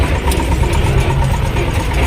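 A T-25 tractor pulling an Agrozet potato planter hums with a steady, close diesel engine drone throughout, loud and unbroken with no voices.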